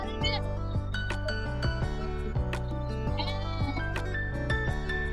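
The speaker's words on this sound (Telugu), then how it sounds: "వీటిని గొర్రెలు అంటారు." Sheep of brown and black breeds at a livestock mandi bazaar in Nallapadu, Guntur, bleat amid dense, continuous market din with overlapping voices and other animal calls.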